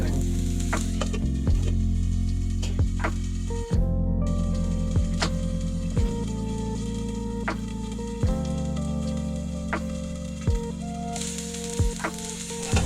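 Potatoes fry for sabudana khichdi with a steady, close sizzle that runs throughout, broken by occasional clinks and scrapes of stirring in the pan.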